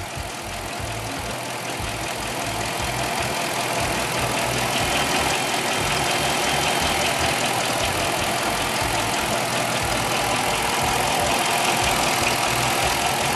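A 2006 Dodge Charger's 5.7 Hemi engine idles steadily after a restart following a throttle body gasket replacement, giving a loud, close, continuous rumble with a slight roughness and no talk.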